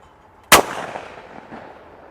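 A single sharp, loud blast from a Stoeger Condor 20 gauge over/under shotgun firing a target load outdoors, followed by a short trailing echo that fades over about a second and a half.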